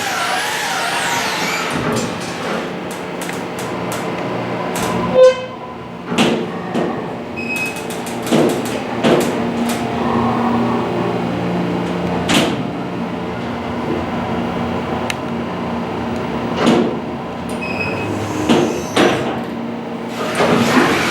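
Schindler 330A hydraulic elevator doors at a mall parking garage slide open and shut with repeated rumbling thuds and rattles, fairly close, amid steady machinery hum and no talking.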